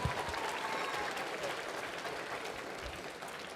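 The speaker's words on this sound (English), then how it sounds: "Yes, you can give a round of applause." Applause from a seated audience at a gathering, a steady wash of many hands clapping at moderate distance, fairly soft and continuous for a few seconds.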